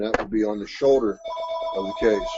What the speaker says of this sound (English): Sorry about the phone call, folks.